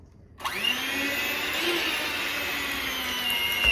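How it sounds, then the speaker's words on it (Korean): An electric hand mixer whipping cream cheese starts up abruptly and runs with a steady high whine, loud and close, no voices. "밴드 믹서를 이용해서 좀 크림치즈를 풀어주래."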